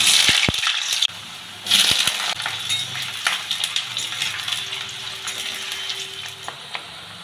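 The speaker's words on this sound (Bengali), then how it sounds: "তো আলুগুলো প্রথমে আমি ভেজে নেব" Small potato pieces frying in mustard oil in a wok, a steady bright sizzle with sharp clinks and scraping stirs of a utensil against the pan, close and clear with no talking.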